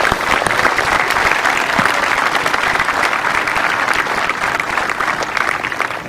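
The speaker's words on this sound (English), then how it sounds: "we'll give them a big round of applause" Sustained crowd applause at a tennis medal ceremony, dense steady clapping from a large audience, loud and continuous throughout.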